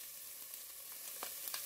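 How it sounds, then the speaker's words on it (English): Garlic and onions frying in a pan for a dairy-free cheddar broccoli soup, giving a faint, steady sizzle with a few soft crackling pops, no talking. "So the garlic, I'm just going to go ahead and add that in, give it a nice little stir."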